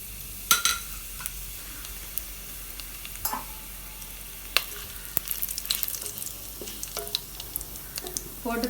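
Steady crackling sizzle of whole spices (cardamom, cinnamon, bay leaf, star anise) frying in hot ghee, with occasional sharp pops and light scrapes of a utensil stirring in the pan.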